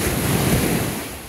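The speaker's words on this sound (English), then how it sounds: "See, those waves don't look real big, and in fact, they're not." Small 1 to 3 foot ocean waves break on the beach at Ocean City, Maryland, ahead of a hurricane, a continuous loud wash of surf mixed with wind buffeting the microphone.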